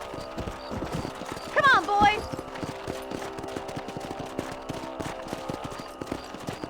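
Horses' hooves clip-clop steadily in Red Dead Redemption as riders mount up on a ranch, with a horse's whinny and a voice calling out over the continuous trotting.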